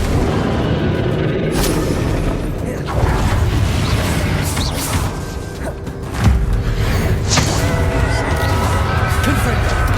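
Confringo explosive spells in Hogwarts Legacy battle, a run of heavy booming blasts and crackling impacts over continuous dense combat noise and game music, with spoken voices mixed in.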